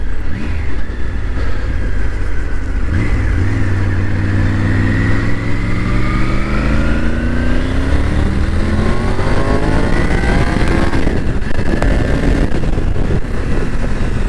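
A 2022 Triumph Tiger 900 GT Pro three-cylinder motorcycle engine pulls hard through the revs under acceleration, its loud tone climbing steadily, dipping at a gear change, then rising again over steady wind roar.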